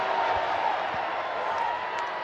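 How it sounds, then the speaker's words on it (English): A full-capacity crowd at a Savannah Bananas banana ball game in Fresno, California, boos the umpires in a loud, sustained roar that holds steady with no pause. "And the boos rain down."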